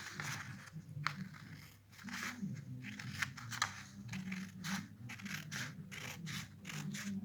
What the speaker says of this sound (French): On prend bien son temps pour découper sur la ligne.